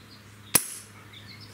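An Umarex 850 M2 CO2 air rifle fires one sharp, close shot, a crisp snapping crack with a brief bright ring, alone against a quiet, steady low hum.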